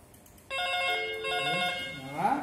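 A telephone on a Panasonic analog PABX extension rings close and clear with an electronic tonal ring pattern, followed by a brief voice at the end.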